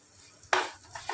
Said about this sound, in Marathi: हा धुवून घेतला तेलामध्ये आता हळद घालते